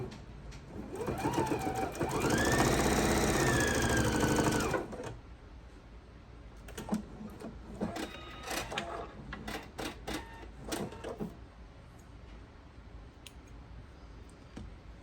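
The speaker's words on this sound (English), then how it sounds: "I'm just going to sew that at 1/4 of an inch" A sewing machine stitches an oven mitt in one loud, fast whirring run that rises in pitch and then stops, followed by scattered clicks, snips and handling noises of fabric.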